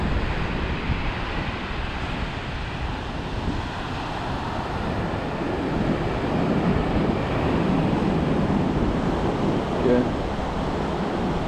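Wind gusting at coastal caves, a loud continuous rushing buffet against the microphone with a low roar, steady throughout, and a voice speaking faintly beneath it.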